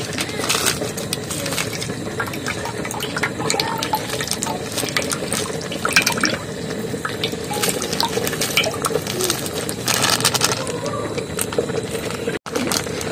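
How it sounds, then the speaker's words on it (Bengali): Milk is poured into a pot for Bengali payesh, making a steady close liquid rush that runs unbroken for over ten seconds, with faint background speech. "দুধটা আমি ঢেলে নিচ্ছি"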